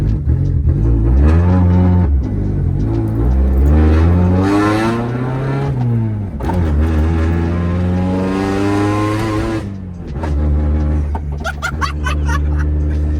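A cheap project car with a strange fault revs its engine hard and close, the loud rasping drone climbing and falling through several throttle sweeps before settling to a rough idle, with no talking.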